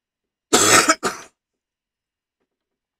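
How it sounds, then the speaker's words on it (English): Two quick coughs, or harsh throat clears, close by in an otherwise silent room. "Sorry about the cough."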